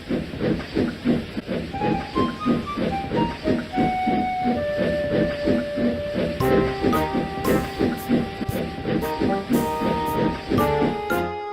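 A steam locomotive in the Trainz game chuffs rhythmically with regular hissing beats, while a steam whistle and sustained tonal hoots join in over the second half, close and fairly loud.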